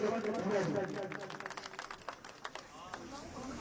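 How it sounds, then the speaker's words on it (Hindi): Crowd applause at a large political rally in Laxmangarh, Sikar, a scattered patter of clapping that starts under a loud amplified voice and continues on its own, fading somewhat toward the end. "जोरदार तालियों के साथ का स्वागत।"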